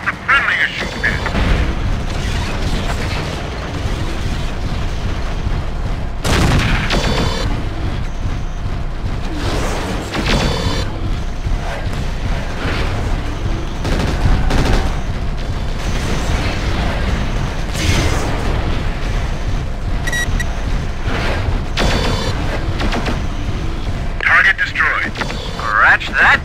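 Mech weapons in MechWarrior 4: Vengeance fire repeatedly in a dense battle mix of booms, bursts and mechanical clatter, steady and loud throughout, with radio voices talking over the action.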